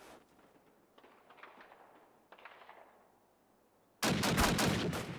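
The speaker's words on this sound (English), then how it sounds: "But Banks with a beautiful headshot" Gunfire in the World War II shooter game Call of Duty: United Offensive during a tournament match: faint distant shots at first, then a loud, close burst of rapid automatic fire.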